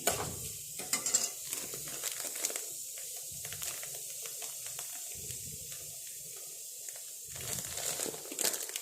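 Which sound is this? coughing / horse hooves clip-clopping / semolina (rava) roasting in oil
semolina (rava) roasting in oil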